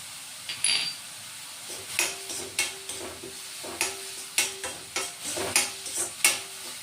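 Onions frying in a pan with turmeric and salt as the filling for aloo methi paratha, a soft steady sizzle broken by repeated scraping stirs of a spoon against the pan, close and fairly quiet, no voices.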